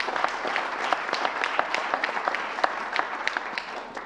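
At the close of the CHS 2024 Global Launch session, a room of participants applauds, dense steady clapping with sharp individual claps standing out, no voices over it.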